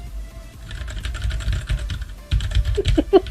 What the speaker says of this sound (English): she's a real decent keyboard there, and it's nice and quiet compared to the keyboard that I have currently